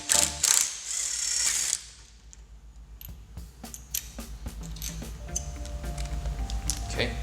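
Ratchet and socket giving a nut on a KS Dropzone seatpost a quick clockwise turn, a run of close clicks and mechanical ticks after a brief burst of louder handling noise, alone without talk.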